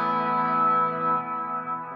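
Source Audio Ventris reverb pedal on an auto swell setting, a sustained guitar chord blooming into a lush, shimmering wash that slowly fades, loud and alone without any talk.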